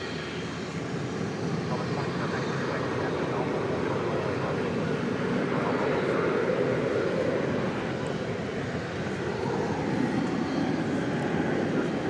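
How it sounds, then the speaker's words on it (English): An American Airlines Boeing 737 jet at night at DFW Airport gives a broad, steady engine roar that holds throughout, swelling slightly midway with no break. "This American Airlines 737 is off to Reno, Nevada."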